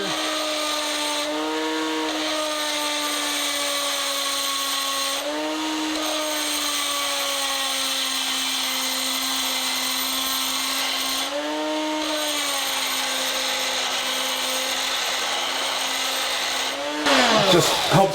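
A power drill bores steadily into a GM-style engine crankshaft for a 454 stroker build, giving a sustained high whine that dips briefly several times under load and ends with a short rattling burst.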